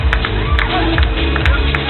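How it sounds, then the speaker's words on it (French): Crowd applause and cheering for the men's triathlon podium at Les Sables d'Olonne, a steady wash of clapping with scattered whoops, under a faint background murmur. "Allez, on les applaudit bien fort"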